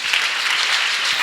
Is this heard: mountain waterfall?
no